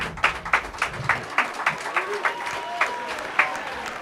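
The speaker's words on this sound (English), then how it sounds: "Round of applause for Andy Katz," Applause for Andy Katz at a podcast induction event: a small group claps in a fairly regular, spaced rhythm, moderately close, with voices faintly underneath.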